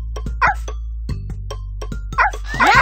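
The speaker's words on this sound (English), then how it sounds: "Let's get that puppy." Cartoon puppy barks and yips from a Dora-style children's show, a few short bursts spread over a few seconds, mixed with voices and a steady low hum underneath.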